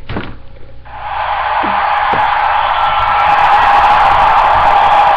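An audience bursts into loud sustained cheering and whooping after a thump at the start, the crowd noise swelling and holding steady at full volume to the end with no talking over it.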